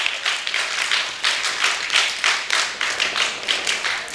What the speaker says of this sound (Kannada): ನಮ್ಮ ಐಕ್ಯತಾ ಟ್ರಸ್ಟ್ನ ಇಂತಹ ದಾನಿಗಳಿಗೆ ಜೋರಾದ ಚಪ್ಪಾಳೆ ಒಂದು ಕೊಡ್ಬೋದಲ್ವಾ?